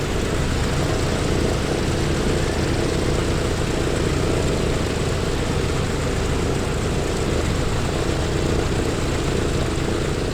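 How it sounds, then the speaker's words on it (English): A PMDG DC-6A piston-engined airliner in a flight simulator, its engine running after start-up with a loud, steady propeller drone that holds an even rumble throughout. "All right, that's a good engine start there."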